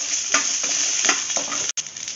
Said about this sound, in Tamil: புளி பூண்டு எல்லாத்தையும் ஒன்றா மிக்ஸ் பண்ணி நல்லா வதக்கிக்கலாம்.